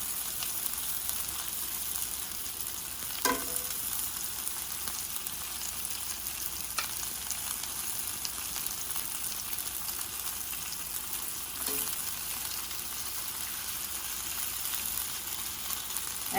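Pepper steak sizzles steadily in a frying pan with a constant hiss, and a few faint clinks or stirring touches come through partway in. No one speaks.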